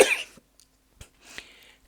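A single person's cough, a sharp burst at the start followed by a few smaller throat clicks and a short breathy rasp, close and alone in a quiet room.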